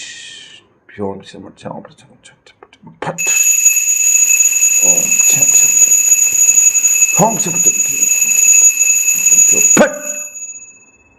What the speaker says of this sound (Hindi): ये घंटी अपने आप बजती है